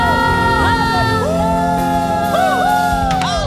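Church congregation at an Ascension Day worship service cheering, shouting and whooping in celebration, loud and close over sustained music with rising vocal cries throughout.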